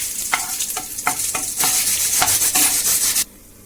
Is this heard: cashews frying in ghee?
yes